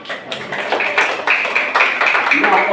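Clapping from an audience at an Indonesian community outreach event builds from a few claps into loud, fairly steady applause, with voices and some ringing tones alongside.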